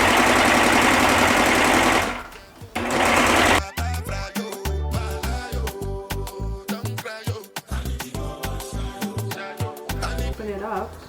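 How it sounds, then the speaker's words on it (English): Serger overlock machine stitching pant crotch seams together, running in rapid mechanical bursts with short pauses between runs, loud and close. "I am going to sew the crotches together. And I'm just going to serge."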